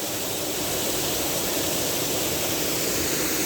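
A waterfall at Henrys Sawmill Dam Falls near the Clarion River pours in a steady, full, broadband roar that stays close and unchanging throughout, with no voices.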